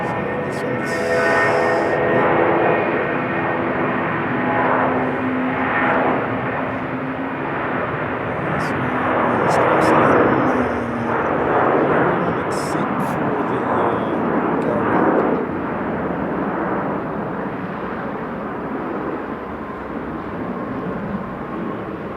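A fixed-wing airliner passes very close over a plane-spotting spot at Sydney airport, its loud, steady jet engine roar swelling and sustained throughout with voices talking underneath.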